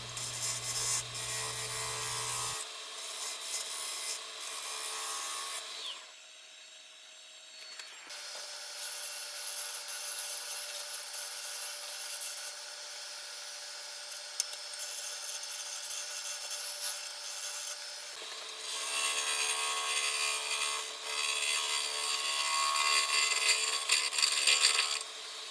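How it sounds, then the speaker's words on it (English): Scraping, rasping wood-and-tool sounds from a woodturning gouge taking push cuts and shear scraping cuts to strip epoxy off the outer surface of a beech burl hollow form on a lathe, steady and close with short breaks and a brief low hum at the start. "continue taking the epoxy off all of the outer surface with a series of push cuts and some shear scraping cuts with my gouge"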